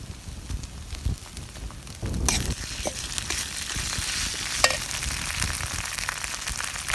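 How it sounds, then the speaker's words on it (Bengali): Onion frying in a pan as ginger paste is added, a steady hiss of oil that swells louder after a sudden splash-like burst, with scattered crackles and stirring clicks throughout; no talking. "পেঁয়াজ ভাজা ভাজা হয়ে গেছে এখন আদা বাটা দিলাম"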